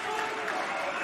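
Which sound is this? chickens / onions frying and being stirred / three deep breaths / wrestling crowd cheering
wrestling crowd cheering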